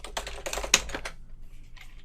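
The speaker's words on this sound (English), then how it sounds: "let's type in attic cleaning here" Rapid typing on a computer keyboard, a quick run of close, clicky keystrokes that thins out into a few scattered taps, heard alone.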